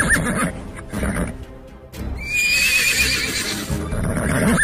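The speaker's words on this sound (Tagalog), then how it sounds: "Isang puting kabayo" A white horse neighs in a long, wavering whinny, preceded by softer snorts and movement, fairly close and prominent.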